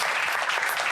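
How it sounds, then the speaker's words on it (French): A comedy show audience breaks into brief, dense applause, a full wash of clapping that fills the moment. "On applaudit s'il vous plaît très fort."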